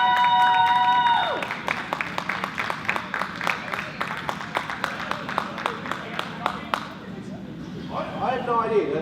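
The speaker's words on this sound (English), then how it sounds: "give them a round of applause." Crowd applause and cheering at a fight night as a team enters the ring, sharp scattered claps and shouts rising after a voice fades, thinning out toward the end as talk returns.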